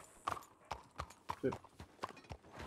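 Horse hooves clop in Red Dead Redemption 2 on a RedM roleplay server, a steady walking rhythm of evenly spaced hoof strikes under a man's brief speech.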